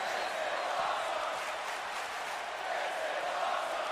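A wrestling crowd cheers and applauds in a continuous, dense roar of voices and clapping that holds steady throughout at moderate volume.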